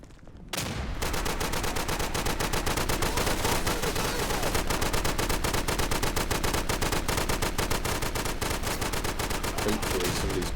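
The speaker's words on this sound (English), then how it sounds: "Taking sniper fire." In the World War II shooter game Day of Infamy, loud automatic gunfire erupts after a brief quiet moment and continues as rapid, sustained bursts of close, overlapping shots for about ten seconds.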